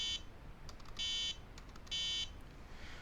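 An mBot robot emits two steady electronic beeps, each about a third of a second long, with a short faint blip before them; the tones are clear and fairly quiet against a low background hiss.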